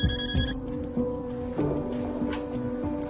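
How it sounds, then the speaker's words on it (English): A telephone rings with repeated electronic bell bursts over a low musical background, the rings clear and fairly close, with no talking. "The phone call was from Bill Clinton."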